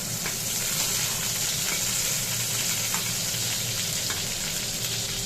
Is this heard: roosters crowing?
no